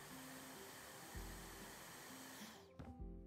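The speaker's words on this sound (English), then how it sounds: "and then it's just the vacuum" A vacuum cleaner in House Flipper 2 gives a steady whining drone at low level, changing pitch partway through and briefly dropping out near the end before resuming.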